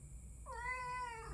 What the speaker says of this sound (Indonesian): Ini kucing namanya Gabu. Ini ngeo